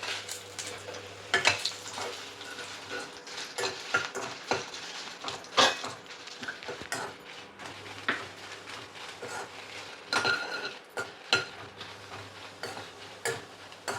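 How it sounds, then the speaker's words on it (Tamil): Red chillies frying in oil for a Tamil narthangai (citron) pickle, with faint crackling under repeated clinks and scrapes of a utensil stirring the pan, and a steady low hum in the background. "நல்லா மிளகாய் வறுபட்டோன்னே"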